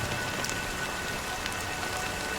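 Steady rainfall in the game Honkai: Star Rail, a dense even hiss of drops striking surfaces with scattered louder splashes, continuous and close with no voices.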